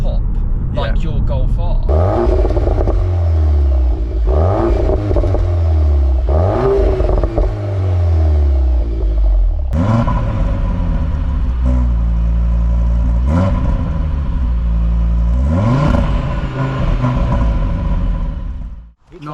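A Volkswagen Golf R's exhaust revs repeatedly with loud rising and falling surges over a deep rumble, each blip ending in a crackle.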